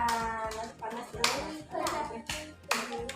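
Children clapping hands in a classroom as they get ready to sing a song, bursts of sharp claps alternating with short spoken phrases, close and fairly loud.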